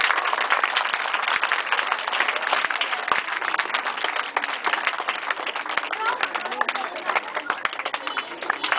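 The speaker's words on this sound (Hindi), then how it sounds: "तालियां मारो। शाबाश।" Steady applause from an audience at a school results ceremony in Lahore as a pupil is called up for a prize, with dense, continuous clapping and talk over it throughout.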